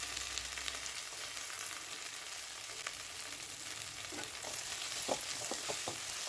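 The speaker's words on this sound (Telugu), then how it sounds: "ఇలా టమాటాలు కాస్త సాఫ్ట్ అయ్యాక కొత్తిమీర కొద్దిగా వేసుకొని కలుపుకోవాలి." Softened tomatoes and coriander sizzle steadily in a pan for Andhra-style gongura chutney, with soft scraping stir strokes and occasional pops over a constant frying hiss.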